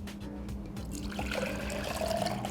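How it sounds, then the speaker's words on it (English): Water runs steadily into a plastic blender cup being filled halfway, a continuous trickling pour that grows slightly fuller toward the end, close and moderately loud with no talking. "I'm going to fill it halfway with some water"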